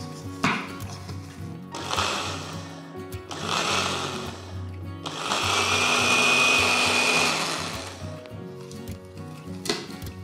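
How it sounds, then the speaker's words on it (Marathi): An electric mixer grinder purees cooked red pumpkin with its water in a home kitchen, whirring loudly in four pulses, the last and longest running about three seconds before a brief final buzz. "त्यातल्या पाण्यासकट मिक्सरच्या भांड्यामध्ये काढून घ्यायचं आणि याची छानपैकी प्युरी"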